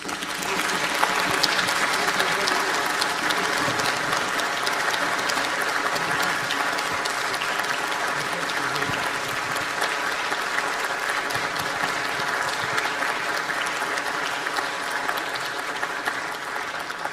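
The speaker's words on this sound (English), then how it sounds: "So one more round of applause," Sustained audience applause after a cello concert at a Music at Noon recital, steady and full throughout, a dense even clapping from a seated crowd with no break.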